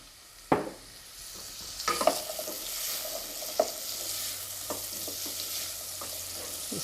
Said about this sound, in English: Just by sauteing a few of the vegetables at the start, it helps to release the flavours a little more into the dish.